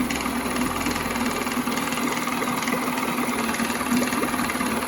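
A 7.5 hp Mercury outboard motor idles steadily at close range, a constant low rumble with faint knocking texture and no talk over it.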